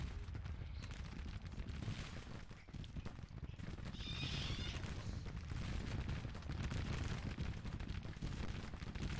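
Dense gunfire rattles without a break through a war video game battle, dull and massed, a fusillade of distant and near shots layered over low rumbling explosions.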